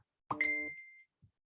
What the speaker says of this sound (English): Let me turn my phone dinger off.